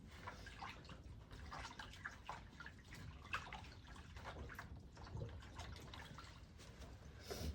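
Water sloshes and drips softly as a horse's tail is washed with oil, a faint, continuous swishing and trickling close by with small splashes.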